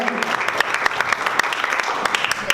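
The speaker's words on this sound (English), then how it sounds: "please give all these brilliant actors a big round of applause" Short burst of audience clapping for actors at an award ceremony, moderately loud with a few sharp individual claps standing out, fading slightly toward the end.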